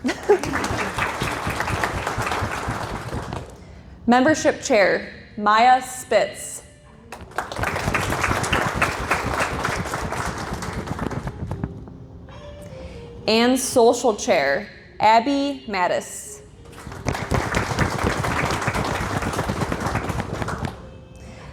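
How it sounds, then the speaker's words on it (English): Bursts of audience clapping at a university psychology honor society induction ceremony, three loud rounds alternating with a speaker announcing names over a microphone. "still clap for her"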